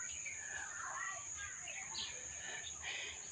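Birds chirp in trees in a village on the edge of Dhaka in the morning, light scattered tweets at a distance over a steady high insect-like hum, faint overall.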